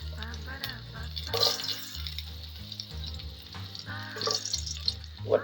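Onions frying in coconut oil for tempering a prawn theeyal make a soft sizzle with a few brief bursts of spatter, heard under a person talking for most of the clip.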